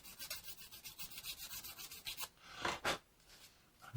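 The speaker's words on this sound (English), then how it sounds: "we just come in with a sander and we're just going to square them out." A sander squaring off the edges of a 3D printed Star Wars Y-Wing model part, a steady rhythmic rasping of quick strokes followed by a few louder, longer scrapes, close and alone.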